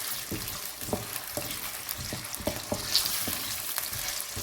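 Potatoes frying in a pan for gobhi aloo, stirred with a wooden spoon: a steady close sizzle with soft scraping stirs and a few light knocks, no talking.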